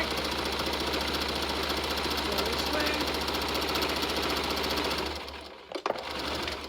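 A sewing machine stitches fabric for a unicorn dress bow, a steady rapid mechanical hum and rattle running continuously, close and loud, then briefly stopping as the presser foot is lifted before resuming.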